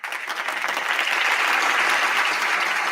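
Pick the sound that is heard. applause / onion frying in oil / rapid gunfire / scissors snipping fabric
applause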